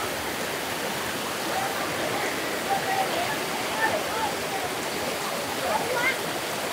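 A cold mountain stream on the path to Thác Mây waterfall in Thanh Hoá rushes in a steady, full, hissing wash, fairly near and continuous throughout with no voices.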